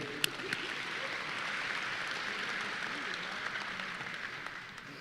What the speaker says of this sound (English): Give Mr. Hicks a round of applause, please.